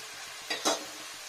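Rice for chicken polow, cooked together with the meat, is stirred and fried in a pan, giving a soft steady sizzle with two brief scraping stirs in quick succession, fairly quiet and close.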